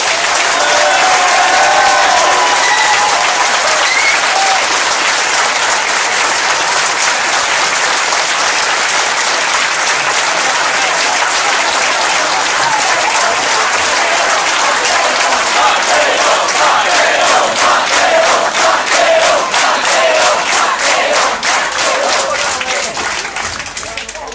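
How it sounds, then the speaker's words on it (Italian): A large crowd at an Italian political rally applauds loudly as Matteo Salvini is welcomed, a dense, sustained wash of clapping and cheering that holds for the whole stretch and thins slightly near the end. "E adesso accogliamo con un grande applauso, con un grandissimo applauso, Matteo Salvini"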